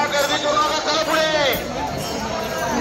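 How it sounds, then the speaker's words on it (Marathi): A dense crowd of pilgrims waits at a temple palkhi procession, giving a steady, loud wash of many overlapping voices and general commotion close by, with a brief louder call rising above the babble partway through. "उभं राहायला जागा नाही, एवढी गर्दी आहे"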